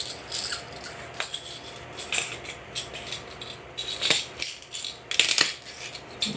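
Metal mixing balls rattle inside a shaken can of chrome paint, coming in irregular bursts of bright clicking and clinking between quieter shaking, close and fairly loud, with no voices.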